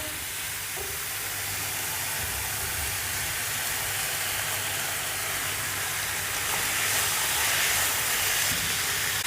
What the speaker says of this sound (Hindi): अब इसके अंदर चिकन डालेंगे